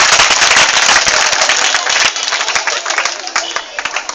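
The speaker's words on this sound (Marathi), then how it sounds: "टाळ्या वाजवा सर्वांनी थोडं" Dense crowd applause at a school karate self-defense program, many hands clapping loud and close for the first two seconds, then thinning into scattered, uneven claps.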